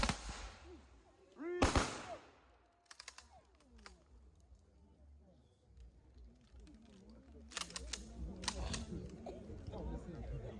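Rifle volley gun salute at a funeral service for a chief inspector: a sharp, loud burst of fire early on, then later cracks amid steady crowd chatter and voices outdoors.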